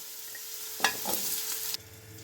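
Potato and pumpkin pieces drop into hot oil with a cumin and chili tempering, setting off a sudden loud burst of sizzling with a few stirring scrapes. It then drops back to a quieter background hiss.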